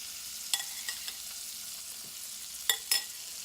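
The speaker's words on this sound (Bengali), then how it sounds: "এবার আমি এই কড়াইটার মধ্যে দিয়ে দিচ্ছি 2 টেবিল স্পুন বাটার" Butter and white oil heat in a kadai with a soft steady sizzle, broken by a few sharp clinks and spatters, with no voices over it.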